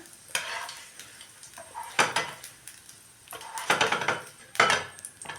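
Frying in hot oil for a roadside-style chilli omelette meal, heard as soft bursts of sizzling and clattering stirring in a pan that come in uneven spurts, with quiet gaps between them and no voices.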